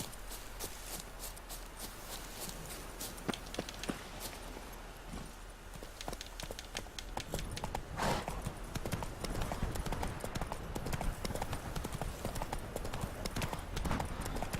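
Roach the horse trots along in a fantasy video game, steady clip-clopping hoofbeats close and clear throughout, with busier, louder hooves and ambient game sounds picking up in the second half.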